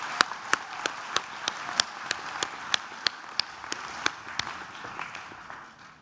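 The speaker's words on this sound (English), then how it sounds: "Final round of applause for Certificate in Foundation Studies," Light audience applause at a graduation ceremony for a foundation studies ESOL certificate, a scattered patter of claps with a few sharp, distinct hand strikes standing out, fairly close and without talk.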